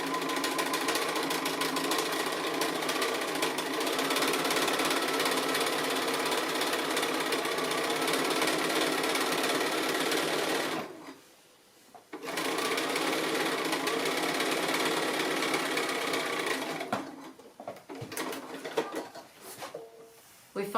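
A sewing machine stitches quilt-as-you-go blocks with a loud, rapid, continuous mechanical whirr, stopping for about a second midway, then running again before slowing into shorter bursts toward the end.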